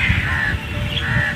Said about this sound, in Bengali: গাছের মধ্যে বসে রয়েছে অনেক পাখি।